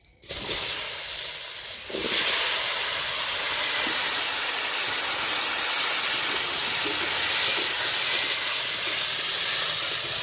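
Potatoes and eggplant dropped into hot oil already tempered with whole spices, erupting into a loud, dense, continuous sizzling hiss that holds steady with no talking.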